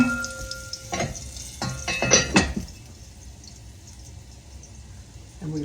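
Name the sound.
pork chops sizzling in olive oil in a pan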